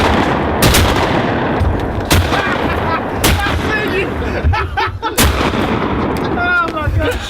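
Gunshots fired while hunting outdoors, several loud, sharp blasts spaced a second or two apart over constant wind and field noise, with faint voices in between.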